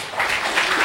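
A church congregation claps in a brief, steady burst of applause with no voices over it.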